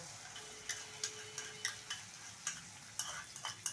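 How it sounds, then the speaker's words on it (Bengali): A spatula scrapes and taps rhythmically in a pan as a cashew and ginger paste is stirred into hot oil, soft clicks repeating over a faint sizzle, quiet and close. "এই পেস্টটা এর মধ্যে দিয়ে দেব"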